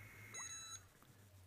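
A short electronic beep, a brief tonal chirp, sounds from an Iris home security system as it is disarmed from a phone, heard once up close against a quiet indoor hum.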